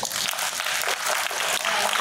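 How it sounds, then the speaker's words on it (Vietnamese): Applause from an audience at a startup coaching event, a dense, steady patter of many hands clapping without a break for the whole stretch, fairly close and moderately loud. "Xin anh chị cho tôi một tràng pháo tay."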